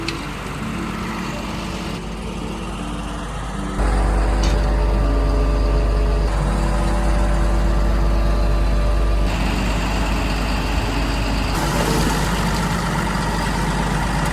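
Cab ride in a MAN TGM 18.250 truck, apparently dropping off a load of golden gravel. The loud diesel engine hums and rumbles constantly, shifting in pitch and load as it drives.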